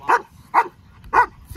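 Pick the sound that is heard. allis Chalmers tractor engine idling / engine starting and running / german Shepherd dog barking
german Shepherd dog barking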